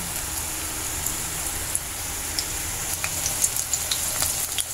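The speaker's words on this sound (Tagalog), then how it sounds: "Ipiniprito na po natin siya." Sliced eggplant frying in oil in a home kitchen, with a soft continuous sizzle and scattered crackling pops at low level and no talk.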